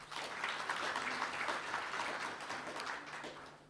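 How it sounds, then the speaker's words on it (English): A room of attendees at a community policing forum applauds the facilitators. The clapping is a sustained, dense patter of many hands that stays fairly even, then tapers off toward the end. "please give our facilitators the round of applause"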